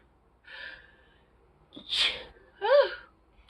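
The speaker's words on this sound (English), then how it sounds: "I'm gonna sneeze, but I'll keep going till I have to sneeze" A single close sneeze, with a sharp intake of breath beforehand and a brief vocal sound just after, in an otherwise quiet room.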